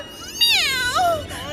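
A cartoon cat from Motu Patlu gives a drawn-out, wavering meow followed by a shorter second mew, close and clear over a faint background.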